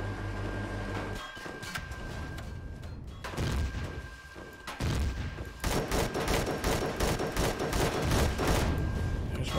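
Base turrets in Empyrion Galactic Survival firing during an attack, with rapid volleys of gunfire rattling in repeated bursts over a humming background, some pauses between, loud and close.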